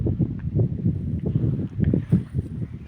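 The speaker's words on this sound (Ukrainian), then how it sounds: "Сьогодні, як завжди, в нас трішки вітер" Gusty wind buffeting the microphone outdoors by a flowering rosehip bush, producing irregular low rumbling thumps that rise and fall continuously.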